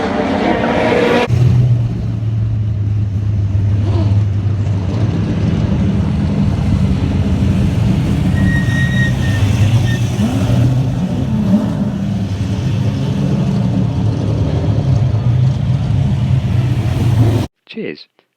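Chevrolet Camaro with a 5.7-litre V8 muscle car engine rumbles loudly and continuously, a deep throaty drone with slight swells as it pulls away, heard close with wind buffeting.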